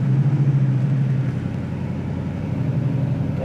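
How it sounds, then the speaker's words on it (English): A 1970 Camaro Z28 V8 idling close by, its exhaust giving a steady, crisp low rumble with a slightly lumpy pulse throughout, no voices over it. "And what a great exhaust sound."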